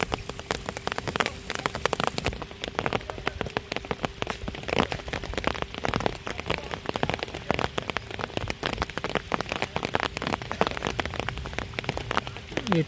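Heavy rain pours down steadily, a dense, unbroken patter of drops on surfaces, with no one talking.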